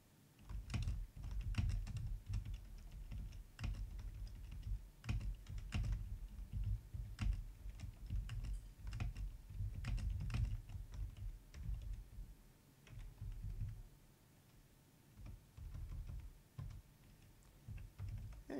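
Rapid typing on a computer keyboard during a visual novel livestream, with dense bursts of close clicking keystrokes that run steadily and then thin out into sparser taps toward the end, with no talk.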